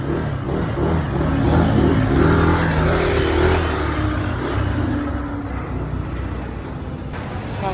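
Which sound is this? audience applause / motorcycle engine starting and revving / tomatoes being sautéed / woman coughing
motorcycle engine starting and revving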